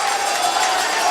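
A hockey arena crowd at an RPI versus Dartmouth men's game cheers after a go-ahead goal, a brief, loud wash of roaring voices sustained throughout.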